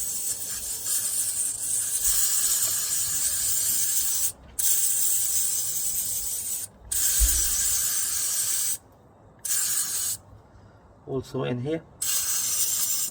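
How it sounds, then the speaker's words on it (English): Loud, close hissing bursts of electrical contact cleaner sprayed onto a Suzuki Swift mass air flow sensor with fault codes, several long sprays separated by brief pauses, with someone talking briefly. "you're just gonna spray the electrical contact cleaner on it"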